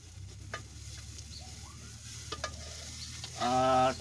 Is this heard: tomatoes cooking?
yes